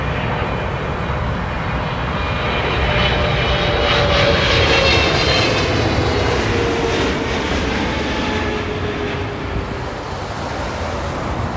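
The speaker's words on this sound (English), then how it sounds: "Nice and pretty smooth landing. Soft landing." Large passenger jet landing at Toronto Pearson, a steady broadband engine roar with wind rush that swells slightly then eases, loud and continuous with no voices.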